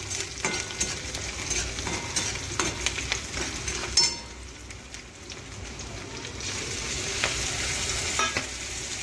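Onion frying in oil in a pan: a close, continuous sizzle and crackle with a few scraping stirs, briefly quieter midway before the hiss swells again.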